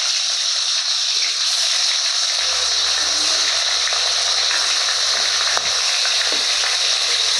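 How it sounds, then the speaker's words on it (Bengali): Tangra fish fry in hot oil in a kadai wok with a loud, continuous sizzle and crackle that runs steadily throughout, joined by a low hum partway through. "মাছগুলো এবারে ভেজে নেব।"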